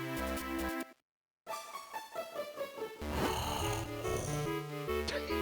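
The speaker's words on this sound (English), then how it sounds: "He speaks in snoring." A character in the video game The Minish Cap snores in a repeating pattern over bright game music, with a brief gap of silence near the start.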